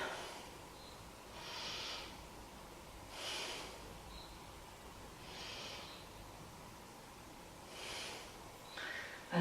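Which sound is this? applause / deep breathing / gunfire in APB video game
deep breathing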